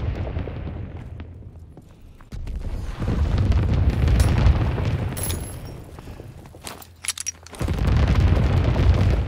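Enemy bomb explosions in the video game Call of Duty: heavy, rumbling booms and bursts that swell and fade in long waves, loud and close, with scattered gunfire between them.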